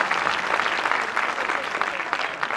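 Campus audience at a stand-up comedy show applauding vigorously, a short dense burst of many hands clapping together with crowd noise, loud and close.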